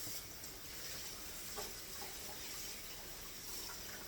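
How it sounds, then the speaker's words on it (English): Hands being washed under a running kitchen tap, a steady close hiss of flowing water with faint splashing that holds evenly from start to end, with no talking. "Yes, you can wash your hands now."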